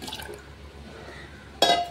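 Water goes into a clay pot while making ven pongal. A quiet kitchen background gives way to a short, bright splash of liquid near the end.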